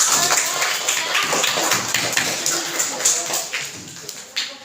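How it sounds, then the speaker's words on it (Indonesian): Schoolchildren in a classroom clapping for the groups that presented, a loose patter of hand claps throughout, close and moderately loud with some voices mixed in. "kasih tepuk tangan buat semua kelompok"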